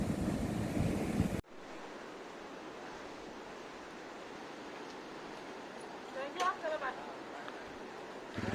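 Sea surf at the shore near a lighthouse at Nagaon, Alibag, a steady broad wash of waves and wind after an abrupt cut, with brief voices near the end.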